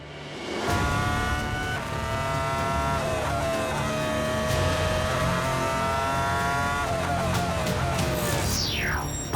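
Renault Formula 1 car at the 2004 Magny-Cours Grand Prix accelerating hard out of a corner: a loud, high-pitched engine scream rising through the gears with sharp shifts, ending in a quick Doppler sweep as it passes.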